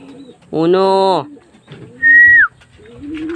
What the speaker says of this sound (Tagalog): Ayun yung mga young bird.